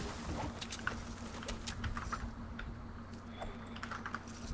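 Steady typing on a Corsair K70 Mark II Speed Switch mechanical keyboard, with a dense run of key clicks and clacks under a constant low hum and no talking.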